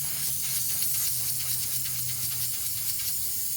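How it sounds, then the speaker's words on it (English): Air hissing out of a car tire as a puncture plug is worked into it, a steady broadband hiss lasting throughout with slight pulsing, close and fairly loud. "Losing a lot of air."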